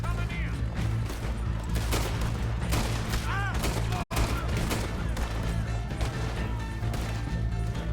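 Bursts of gunfire in Red Dead Redemption 2 during a getaway: dense, overlapping shots and impacts over constant rumbling motion noise, with a brief total dropout midway and faint voices mixed in.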